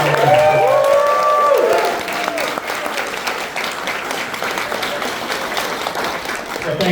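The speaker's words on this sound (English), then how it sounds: "a big round of applause for Ed" A panel audience bursts into loud, sustained applause for a studio member, with dense clapping and some cheering, tapering slightly but continuing throughout.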